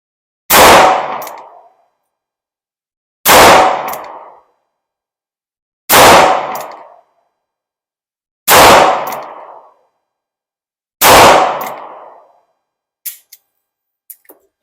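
A Charter Arms .38 Special revolver fired single action: five loud, evenly spaced gunshots about two and a half seconds apart, each with a short decaying tail, followed by a few faint metallic clicks.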